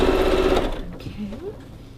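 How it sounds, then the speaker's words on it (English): A sewing machine stitches a skirt seam in a quick whirring run for under a second, then stops as a voice begins talking. "I'm just going to sew this other side and then finish my seams"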